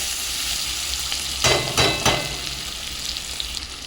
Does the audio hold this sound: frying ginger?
yes